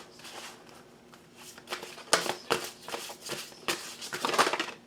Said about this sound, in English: I can't really shuffle them.